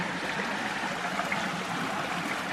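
Stream flowing through a deep channel below a bluff in Bankhead National Forest, Alabama, a steady broadband rush and trickle of water with no voices.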